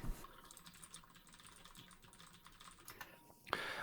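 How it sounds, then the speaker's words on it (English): Rapid keyboard typing clicks away steadily, soft and close, with a brief louder tone at the end. "So I'm basically suppressing my keyboard sounds."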